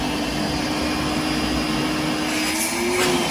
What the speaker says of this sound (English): Very good suction out of this vac.